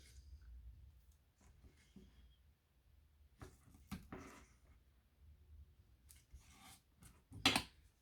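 Cutting material by hand for a 3D display box, a few faint snips and scrapes with one sharper louder cut near the end, quiet and close in a still room.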